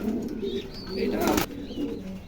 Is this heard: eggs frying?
no